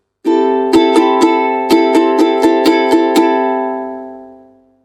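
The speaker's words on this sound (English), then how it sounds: "The first type is a hard plastic plectrum like this one." A single ukulele chord, played with a hard 0.38mm plastic plectrum, rings out, then eight crisp, bright strums in a steady rhythm, each with a sharp attack, before the sound fades away.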